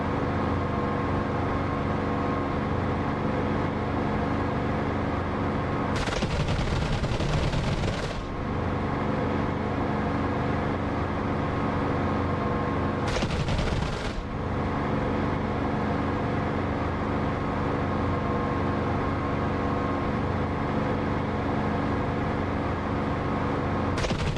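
Aircraft cannon fire in the DCS flight simulator rips out in two bursts, a long roaring one and a shorter one, over the steady loud drone of the cockpit engine.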